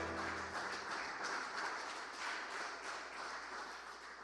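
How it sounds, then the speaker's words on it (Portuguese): A church congregation claps together in a sustained, dense burst of applause that fills the room, loud at first and gradually tapering, with no talking over it. "Palmas para o Senhor Jesus Cristo."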